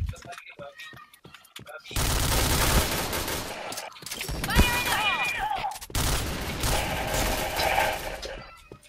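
Bursts of gunfire from the Point Blank shooter game fill most of the clip, heavy automatic volleys with short gaps, over background noise with faint voices.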